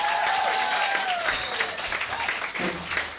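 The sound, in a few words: audience applause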